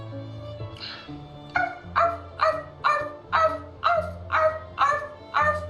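A person imitates a dog barking during the video game Telling Lies, giving about eight evenly spaced, loud woofs over a low background music hum.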